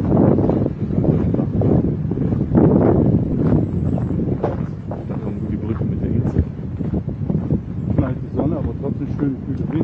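Cool wind blows steadily across an outdoor microphone in the Vils valley near a bridge and island, a loud, continuous rumbling buffet, with people talking under it.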